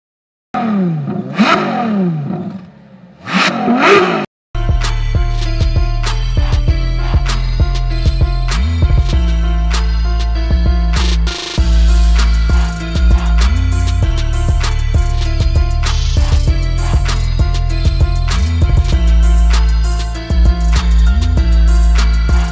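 Turbocharged four-wheel-drive Mercedes-AMG CLA 35 in Sport Plus mode, starting with a few short engine blips, then a loud, sustained close-up acceleration whose roaring pitch climbs and dips through gear changes, with no talk.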